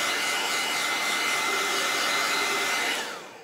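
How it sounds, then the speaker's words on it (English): A handheld hair dryer blows steadily at close range during a craft project, a loud continuous broadband rush that holds for about three seconds and then winds down as it is switched off. "I'm gonna put my dryer down there."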